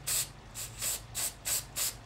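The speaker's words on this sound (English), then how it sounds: "so now I spray it with a little bit of this brown" Aerosol can spraying brown paint onto a miniature conifer tree, six short hissing bursts in a quick, even rhythm, close and fairly soft.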